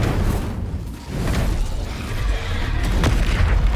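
The Incendio fire spell goes off in Hogwarts Legacy as a loud, rumbling burst with whooshing swells, one blast rolling into the next over about four seconds.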